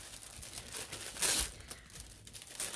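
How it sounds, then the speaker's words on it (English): A plastic bag crinkles up close while project bags and notion pouches are unpacked, a soft rustling with one louder crackling burst midway. "I'm sorry for bag crinkling and all that"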